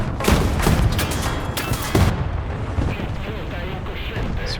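Tank gunfire in a War Thunder battle on a desert map, a burst of heavy booming shots in the first two seconds followed by a rumbling tail and distant battle noise, with someone talking over it.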